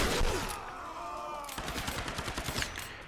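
Rapid bursts of automatic gunfire from an enemy in the Tomb Raider video game, a clipped rattling string of shots after a brief pause, heard at moderate distance.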